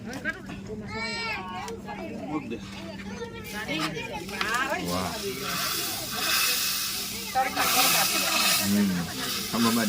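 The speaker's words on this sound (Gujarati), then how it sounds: "એની ઉપર તેલ ગરમ ગરમ રેડીને વઘાર કરવાનો છે" Hot oil poured over green garlic and red chili powder at a village farm cookout bursts into a loud, steady sizzling hiss that swells midway and keeps going under ongoing talk.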